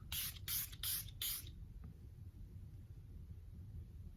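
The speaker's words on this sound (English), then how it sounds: "I'm gonna spray one more time and just see if we can get it a little bit even more." Four quick hissing bursts of Ruby Kisses Hydrating Setting Spray onto a face in close succession, followed by quiet low rumbling background.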